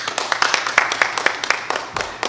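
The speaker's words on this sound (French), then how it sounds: "on nous applaudit." Congregation applauding at a French-language Sunday church service, rapid rhythmic claps from a group, close and fairly loud, keeping an even beat throughout.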